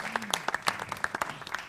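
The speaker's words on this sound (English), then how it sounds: "you deserve a second round of applause for that" Scattered clapping at a live traditional Irish music session, a brief patter of individual claps mixed with overlapping voices in the room.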